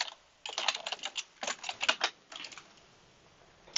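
Rapid typing on a computer keyboard while entering data into SPSS, in close irregular bursts of clicks with short pauses, with no voice present.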